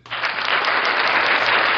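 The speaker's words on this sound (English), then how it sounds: "give it an applause" Dense applause swells quickly and holds steady, a loud bright wash of many hands clapping with no gaps or voices.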